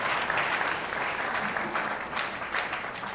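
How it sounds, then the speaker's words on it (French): A large church congregation applauds steadily and warmly, a dense wash of clapping that fills the room without pause, with a few voices faintly mixed in. "applaudissons pasteur Doyen."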